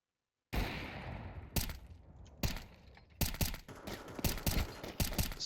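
Bursts of rifle fire from Counter-Strike 2 on Dust2 ring out while the player moves, several sharp rapid volleys separated by short gaps, loud and close with no talking.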